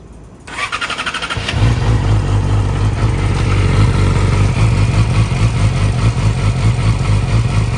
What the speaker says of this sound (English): you should run the engine for a little bit just to get it a little warm